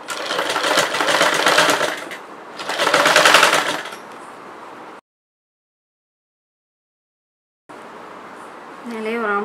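Sewing machine stitching a chudidar in two loud bursts of rapid stitching, then a stretch of silence, followed by someone speaking close by.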